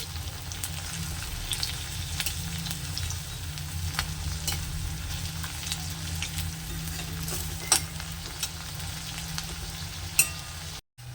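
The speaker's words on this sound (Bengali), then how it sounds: "এখন উপরের পিঠটা ভাজার জন্য এগুলোকে উল্টে দিতে হবে।" Bean fritters fry steadily in hot oil, a dense, continuous sizzle with occasional sharp crackles and pops, close and fairly loud throughout, ending in a brief dropout near the end.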